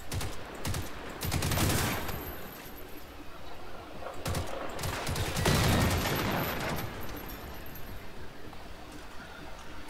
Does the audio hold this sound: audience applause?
no